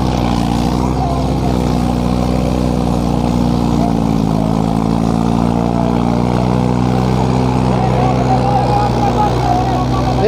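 Two tractors, a John Deere 5042 D and a Mahindra 575 DI, run their diesel engines together in a steady, close, throbbing drone that holds level throughout, with someone talking over it.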